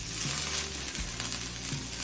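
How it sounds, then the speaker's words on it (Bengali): Broccoli and capsicum fry in a pan with a loud, dense, steady sizzle and a few soft stirring bumps. "ব্রোকলি আর ক্যাপসিকাম দিয়ে মিনিট 2 ভেজে নিলাম।"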